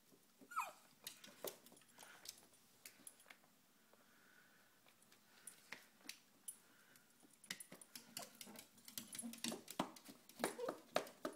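A dog moves about quietly with soft whimpers, snuffles and scattered clicks and taps, faint and close in an otherwise still room, with a chipmunk nearby.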